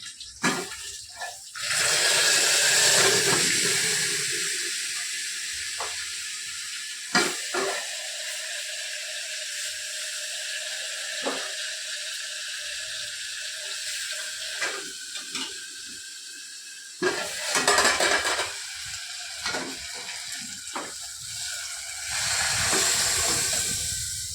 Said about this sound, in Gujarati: દાળ થઈ ગઈ છે કપલેટ હવે થોડીક વાર ઉકળવા દેવાની છે